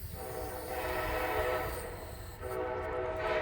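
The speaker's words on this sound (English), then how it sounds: "Sorry about this train, y'all." A train rumbles past nearby, a loud steady roar of rolling cars with a sustained horn tone layered over it.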